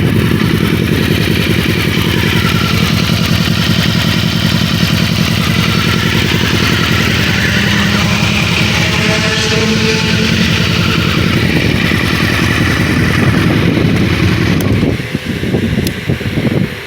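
A radiator fan and a regulator-rectifier cooling fan whir together on a custom fifth-generation Honda VFR800, mixed with the steady rumble of the idling engine. The sound is loud, close and continuous, then shifts briefly near the end.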